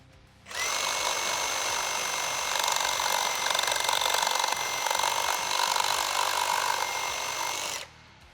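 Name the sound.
Milwaukee Sawzall reciprocating saw cutting nailed timber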